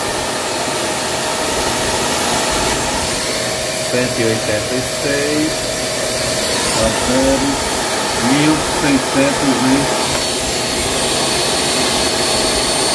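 A household vacuum cleaner running off a LVYUAN 4000 W off-grid solar inverter, a loud, steady roaring whine through the whole stretch, with someone talking briefly over it.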